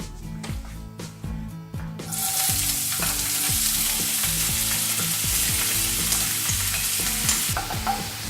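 Chopped vegetables for an Italian pasta sauce frying in a pan, a loud steady sizzle that swells after a couple of seconds, with repeated scraping strokes of a stirring utensil throughout.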